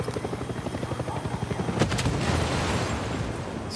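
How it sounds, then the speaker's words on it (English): Helicopter hovering overhead in the video game Far Cry 6, a loud rapid rotor chop pulsing steadily, joined midway by a burst of gunfire and a rumbling blast. "We now need to deal with that pesky helicopter above us"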